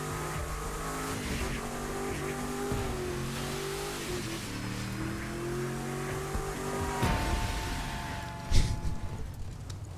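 A drag car engine roars and revs in The Crew 2 racing game, a steady loud drone with shifting tones, then a sharper rise and a brief burst near the end like tires or impact.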